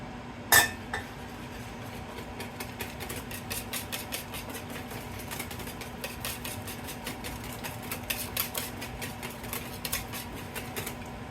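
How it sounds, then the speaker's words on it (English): A whisk clinks rapidly and steadily against a bowl as melted margarine is beaten into popover (Yorkshire pudding) batter, a busy, moderately loud scraping rattle that runs throughout after one sharper knock near the start. "And then it says to whisk in our melted butter"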